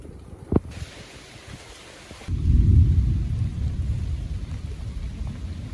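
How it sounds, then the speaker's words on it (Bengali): Heavy monsoon rain falls over a Bangladeshi village as a deep thunder roll breaks in partway through, a loud low rumble that swells and then lingers over the steady hiss of rain. "এই যে মেঘ ডাকাডাকি করতেছে,"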